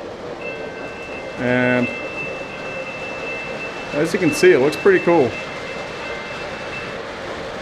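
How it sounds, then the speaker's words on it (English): MTH model trains run on a layout, a steady rolling rumble with a brief burst of clatter and a short run of squealing, whistle-like tones midway, while a person talks over it. "All the trains that are running on the layout right now are MTH"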